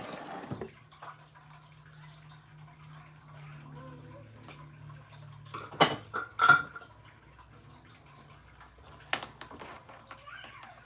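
Dishes, pots and cutlery are washed in a home kitchen. A low running-water hum sits under occasional sharp clinks and clatters of crockery and metal, with a couple of louder knocks midway.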